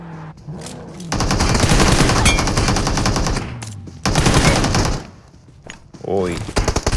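Rapid automatic gunfire from PUBG Mobile in a solo-versus-squad match: sustained loud bursts of machine-gun fire, broken by short gaps, with heavy rattling shots returning near the end.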